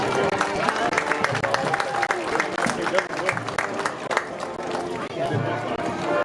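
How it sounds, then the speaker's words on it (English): A crowd at a Springfield vs Station Camp high school football homecoming applauds the class of 2027 representatives. Dense, continuous clapping from many hands carries steadily, with murmured chatter underneath. "Let's give a round of applause for the homecoming representatives from the class of 2027"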